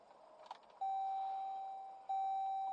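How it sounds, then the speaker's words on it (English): A car's warning chime sounds as two long, steady electronic beeps inside the cabin, the first lasting about a second and the second starting after a short pause, over a quiet interior. "What are you beeping at?"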